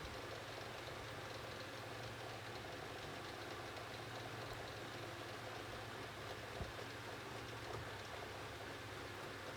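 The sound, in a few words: 1980s Micromark 9 inch desk fan running on lowest speed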